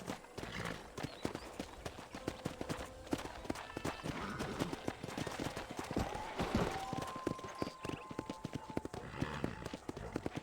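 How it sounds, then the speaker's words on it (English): Horse hooves gallop in a fast, steady clip-clop while riding across a ranch in the Red Dead Redemption video game, loud and continuous, with a brief whinny and faint background game sounds. "let's see if you can still ride a horse"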